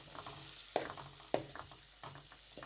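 Makhandi halwa being stirred and cooked in a pan over a low flame as its sugar starts to caramelize: a soft steady sizzle, with a spoon scraping and knocking against the pan every so often.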